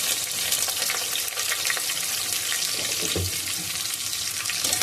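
Onions and whole spices such as cinnamon fry in oil for chicken biryani, a dense steady crackling sizzle that runs close and loud throughout, with a faint low knock near the end and no talking.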